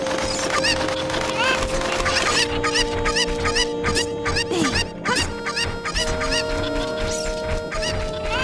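Chicken clucking in The Legend of Zelda: Ocarina of Time, repeated short game clucks over steady background music, fairly loud and clear without talk.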